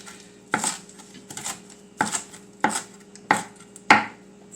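A knife chops culantro on a cutting board, about eight sharp, crisp strikes in an uneven rhythm, close and clear with no talking.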